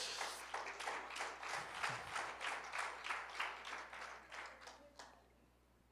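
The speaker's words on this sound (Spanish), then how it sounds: "Dale un aplauso a Cristo" Church congregation applauding during a pastor's sermon, a steady burst of hand clapping for about five seconds before it fades out, with a faint steady hum underneath.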